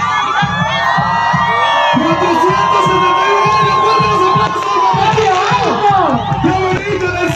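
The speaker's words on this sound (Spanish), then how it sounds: "fuerte los aplausos" A festival crowd cheers and shouts loudly in the open air during a patronal fiesta with fireworks and a drone show, with voices whooping over steady noise and dull thumps underneath.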